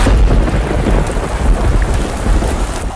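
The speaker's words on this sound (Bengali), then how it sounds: "হঠাৎ বজ্রপাতের শব্দে কাকের ঘুম ভেঙে যায় আর দেখে বাইরে অনেক বৃষ্টি হচ্ছে।" A heavy rainstorm pours down steadily while deep thunder rumbles underneath, loud and close for a few seconds with no break and no talking.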